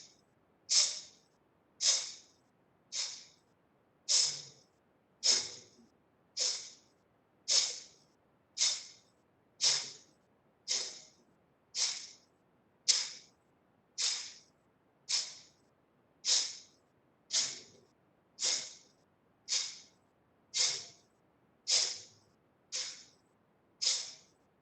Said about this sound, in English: let's finish 25 rounds of Kapalbhati